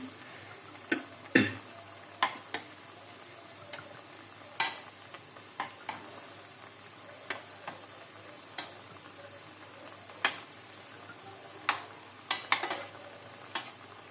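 Appalu fry in a pan with a steady soft sizzle, while a utensil stirs them slowly, making a dozen or so sharp scraping clicks spaced irregularly over the bubbling oil.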